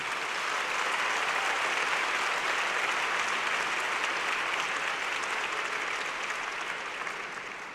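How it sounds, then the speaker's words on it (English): A large graduation ceremony audience at Columbia University applauds the faculty, a dense, even wash of clapping that holds steady throughout and eases slightly at the close, with no voices standing out. "Please, let's applaud our faculty as well."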